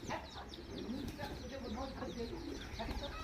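Chicken clucking in a village yard among pigeons being fed, short irregular clucks at moderate distance mixed with other bird sounds and light background noise.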